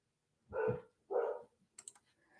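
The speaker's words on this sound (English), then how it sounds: "that's my dog barking in the background" A dog barks twice indoors, each bark sharp and fairly clear, followed by a few soft clicks from a computer keyboard.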